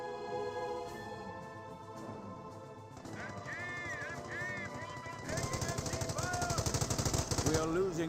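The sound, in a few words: gunfire in the video game Company of Heroes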